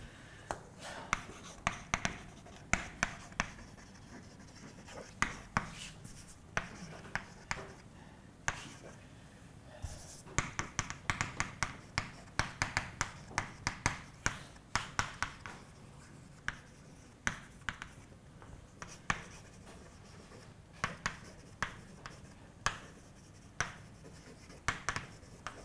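Chalk or marker writing on a board during a mathematics lecture on groups of interval diffeomorphisms, a steady series of sharp taps and short strokes, fairly close, with faint room noise and no clear talk.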